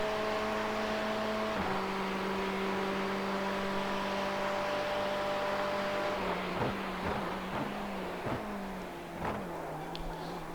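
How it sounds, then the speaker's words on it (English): Ferrari race car engine at Le Mans in iRacing, a steady high-pitched drone holding speed, then dropping through downshifts with sharp blips and pops as it slows, loud and continuous throughout. "Listen to that car."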